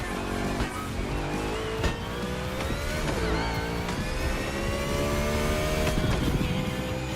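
A NASCAR race car engine boosted by nitrous in the racing game Motorfest holds a loud, continuous whine whose pitch climbs and drops through gear changes. No talking is heard.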